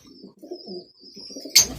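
A Lal Pari breed pigeon coos in soft, low, rolling phrases, near and fairly quiet, over a faint steady high hum, ending with a sudden sharp rustle.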